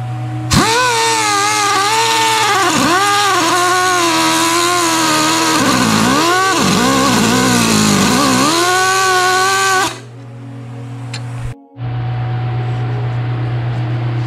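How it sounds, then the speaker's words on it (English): Abrasive cutoff tool grinding off the seized head of a bolt on a 1971 Triumph GT6 frame, a loud, continuous high-pitched whine that wavers in pitch as it bites the metal, easing off near the end before a brief restart. "So the solution is going to be to get a abrasive cutoff tool."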